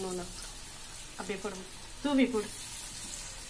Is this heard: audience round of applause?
no